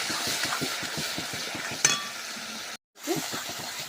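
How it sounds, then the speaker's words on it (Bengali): Potato spices with turmeric, salt and chili powder frying in oil, a steady close sizzle with rhythmic stirring scrapes, a sharp clink near the middle and a brief dropout before the frying resumes. "এবার খুব ভালো করে ভেজে নেব"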